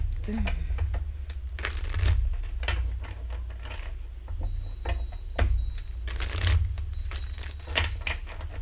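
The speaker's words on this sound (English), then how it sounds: "Let's shuffle a bit." Tarot cards are shuffled in repeated bursts of riffling and slapping, close by, with a person talking softly between the shuffles.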